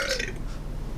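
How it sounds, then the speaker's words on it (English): A single short, close burp after drinking beer brewed with Tide Pods, a brief guttural rasp that fades into faint background noise. "Your burp smells like Tide."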